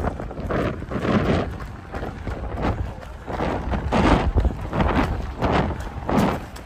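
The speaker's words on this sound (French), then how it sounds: "Oh là, il y a un peu de vent." Wind gusting outdoors during a run along a city street in Paris, buffeting the microphone in uneven, swelling roars with rhythmic thumps beneath.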